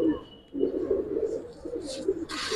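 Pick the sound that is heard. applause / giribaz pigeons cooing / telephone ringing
giribaz pigeons cooing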